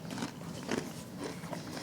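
Close, quiet crunching and chewing of English walnuts, a few soft bites in a steady rhythm with no talk.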